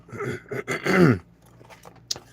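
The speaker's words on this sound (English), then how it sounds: "Clear my throat." A person clears their throat with a rough, gravelly rasp lasting about a second, followed by quieter shuffling and a sharp click.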